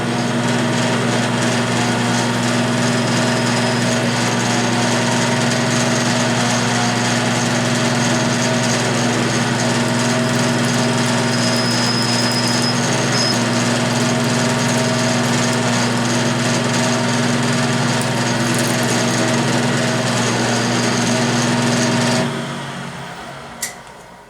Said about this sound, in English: I'm going to drill all the way through with a size F drill